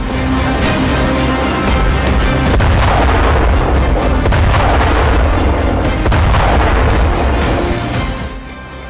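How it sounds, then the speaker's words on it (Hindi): Anti-tank guided missile strikes hitting enemy posts in Nowshera district, Jammu and Kashmir: a dense, continuous roar of booming blasts and rumbling detonations, loud and sustained, with several heavier thuds rising out of the din before it fades near the end. "इस हमले में सेना ने एंटी टैंक गाइडेड मिसाइलों का इस्तेमाल किया"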